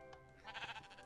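Sheep bleat in a video game, a short loud call rising in the second half after a faint earlier bleat, with no talk over it.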